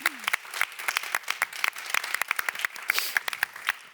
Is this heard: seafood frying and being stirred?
no